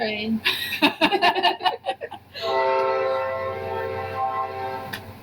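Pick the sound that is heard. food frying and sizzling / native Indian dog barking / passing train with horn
passing train with horn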